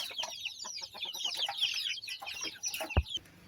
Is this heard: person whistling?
no